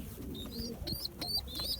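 Young homing pigeons sunning themselves, nine squabs together, give soft low coos mixed with thin, high squeaky whistles in short repeated bursts. The sounds are quiet and close by.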